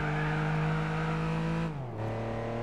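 A car in Gran Turismo 4 holds a steady engine drone on a relaxed drive, then dips briefly in pitch as if shifting gear before settling again. No voices are heard over it.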